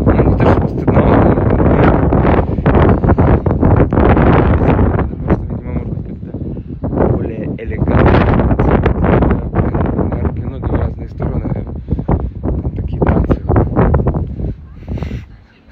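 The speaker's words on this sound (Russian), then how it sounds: "Плохо слышно, ветер." Strong outdoor wind buffets the microphone without a break as loud, rumbling gusts that swell and ease for the whole stretch. No one can be heard talking over it.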